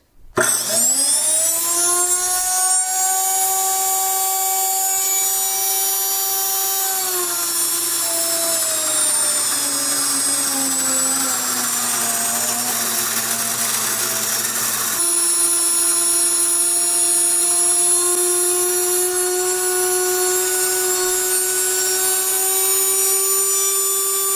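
A Blendtec grain mill grinds hard winter wheat berries into flour with a loud, piercing motor whine that starts abruptly, dips slightly in pitch as the load settles, then holds steady and continuous for about twenty seconds.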